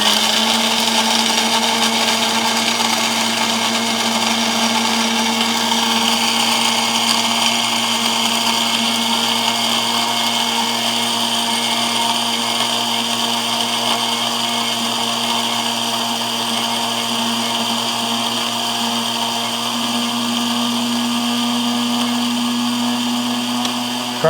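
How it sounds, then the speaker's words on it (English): A Gourmia 12-cup programmable grind-and-brew coffee maker grinds coffee beans on a coarse setting, a steady, fairly loud, close motor whir that holds an even pitch throughout with no talking. "Grinder's not super loud, but it is actually kind of loud."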